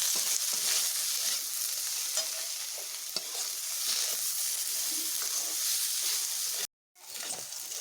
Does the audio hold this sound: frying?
yes